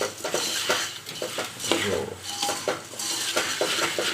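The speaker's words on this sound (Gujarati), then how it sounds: "ભેળ બનાવવા માટે મમરા વઘારવાના મિત્રો હળદર નાખી" Puffed rice being tempered with turmeric for bhel, stirred in a pan with a spoon that scrapes and clinks against the metal in quick repeated strokes, under soft sizzling and a brief spoken word.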